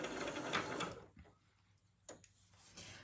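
A sewing machine stitching through paper for paper crafting: a dense mechanical whir for about a second, then quiet with a few sharp clicks and knocks, heard close and without speech.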